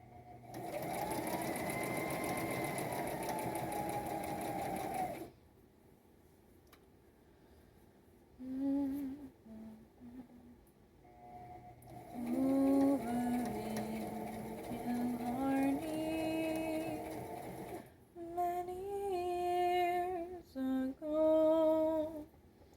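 A sewing machine stitches in bursts, starting with a long steady whirring run, then a pause, then shorter start-stop runs with rising and falling motor pitch, heard up close with a voice talking softly alongside.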